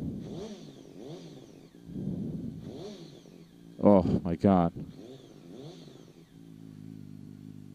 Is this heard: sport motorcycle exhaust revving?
yes